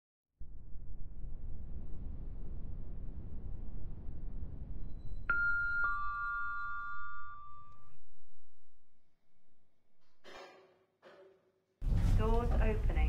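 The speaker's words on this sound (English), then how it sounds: "Lift going up." A lift travels upward in a Roblox game: a steady low hum and rush for several seconds, overlaid by a couple of sustained electronic tones, then a few short clicks and a voice speaking at the end.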